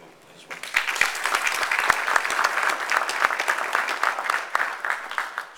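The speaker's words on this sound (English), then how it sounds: "Please give a big, big round of applause to Shirley Campbell as well." Sustained applause from an audience, starting after a brief pause and continuing steadily with dense clapping throughout.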